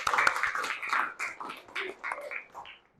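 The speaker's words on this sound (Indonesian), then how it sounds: "kasih tepuk tangan dulu untuk kita semua" Fifth-grade students in a classroom clapping, a brisk burst of scattered, close hand claps that thins out and tapers off over a few seconds.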